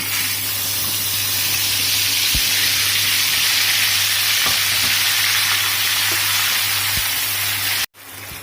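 Masala sizzling and frying in a hot pan for a fish curry gravy, a loud steady hiss that holds for several seconds with a few faint stirring knocks, then cuts off abruptly near the end.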